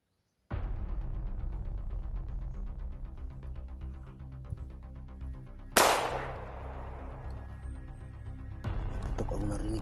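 Gunshots ring out outdoors: a sharp, loud crack with a long echoing tail about midway, and another burst near the end, both over a steady rumbling background hum.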